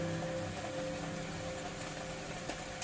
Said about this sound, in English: Rainy day's nice.